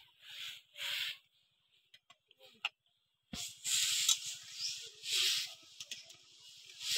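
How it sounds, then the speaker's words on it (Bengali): Water poured into a hot pan of cooking taro and prawns gives a hissing sizzle, with brief bursts first, then a sustained louder bubbling hiss close by. "এবার আমি জল দিয়ে দেবো"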